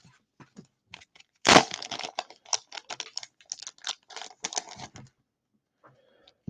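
A paper envelope of NFL sports cards is torn open up close: a sharp rip followed by scattered crackling, crinkling paper sounds, with no voices.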